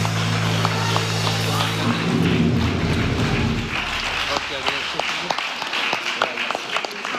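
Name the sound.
audience applause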